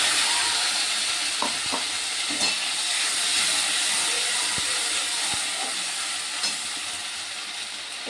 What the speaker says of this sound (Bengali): একটু আদা বাটা দিয়ে দিচ্ছি।